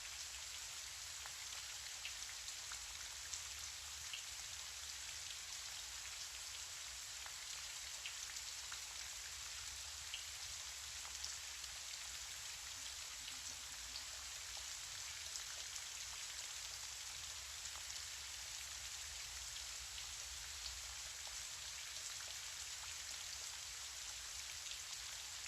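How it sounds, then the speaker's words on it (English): Gentle rain falls steadily on surfaces, a soft continuous hiss with faint scattered droplets, very quiet and unchanging throughout with no voices. "listening to the rain."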